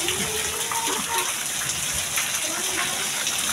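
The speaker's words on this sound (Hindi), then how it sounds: "पहली बार बारिश हो रही है" Rain pours steadily, with water gushing and splashing as if running through a drain or channel, a constant hiss filling the clip while a voice talks faintly underneath.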